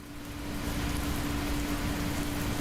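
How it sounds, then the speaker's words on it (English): Rain ambience in a cozy video game, a dense, steady hiss of rainfall that swells in at the start and then holds evenly, with no other sounds. "Adding a rain noise in the background helps make the game 100 times more cozy and immersive"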